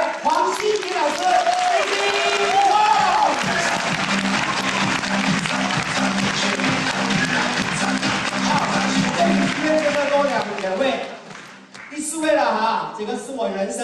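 Warm audience applause greets a guest at a spring diamond presentation event in Taipei: dense, sustained clapping from a large crowd blends with music and an amplified voice, dipping briefly near the end before resuming.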